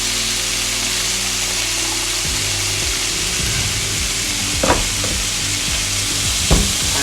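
Stock splashes into a hot pan of Indian nacho topping, setting off a loud, steady sizzle with a couple of sharp clatters near the end; no one speaks.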